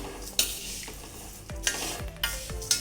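Bhajni flour dry-roasting in a pan on a low flame, with a few scraping spatula strokes and light clinks against the pan, fairly quiet and close.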